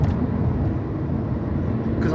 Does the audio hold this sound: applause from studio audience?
no